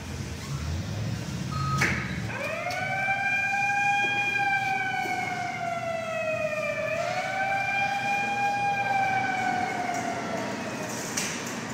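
A Namco fire truck claw machine blares an electronic siren, a loud wailing tone that rises and sweeps for about ten seconds after a brief beep, steady and close over arcade room hum.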